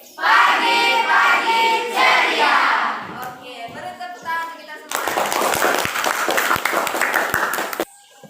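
Voices speak first, then a burst of clapping from a classroom group follows for a few seconds before stopping.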